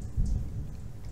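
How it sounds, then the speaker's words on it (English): Loud low thunder rumbles through a Minecraft rainstorm, a heavy deep roll rising in the first moments over a steady hiss of rain. "That's loud thunder."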